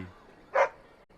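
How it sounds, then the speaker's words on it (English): A puppy in Dragon Age: Origins gives a single short, close bark over a quiet background. "Who's the cute and adorable puppy?"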